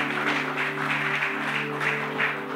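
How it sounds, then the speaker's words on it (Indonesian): Steady, dense clapping from a church congregation with a low sustained musical drone underneath, continuing evenly without pause. "Tepuk tangan bagi Allah kita"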